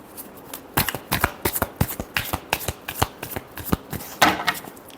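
Tarot cards being shuffled by hand in a rapid run of crisp riffling flicks, about a dozen sharp bursts over five seconds, close and clear with no talking.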